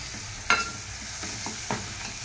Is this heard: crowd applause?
no